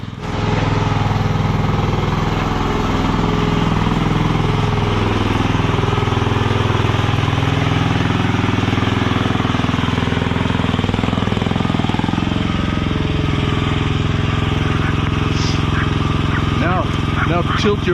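A Chinese mini skid steer's engine runs loud and steady throughout, a continuous mechanical drone with a low throb, while voices talk over it now and then.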